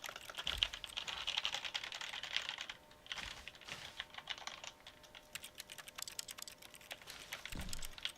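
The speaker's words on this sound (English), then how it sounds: "Oh, cool, it makes clicking noises." Button clicking in The Stanley Parable: a run of quick, light clicks and taps that come in irregular bursts and steady patters, fairly quiet and close, with no talking over them.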